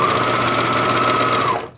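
A sewing machine runs steadily as it stitches off the edge of fabric on a shirt being upcycled into a zippered pillowcase, a loud, continuous near whir that stops abruptly at the end.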